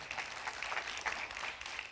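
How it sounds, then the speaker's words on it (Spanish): Church congregation at a Sunday service applauds, a soft, fairly distant wash of many hands clapping, steady and low in level for about two seconds. "dele un fuerte aplauso al Señor"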